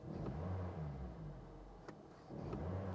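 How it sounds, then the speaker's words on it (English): Car engine being given gas during a scan-tool test, a low rumbling rev that swells and settles with a couple of faint clicks in between, quiet and fairly distant, no speech. "I'll give it some gas"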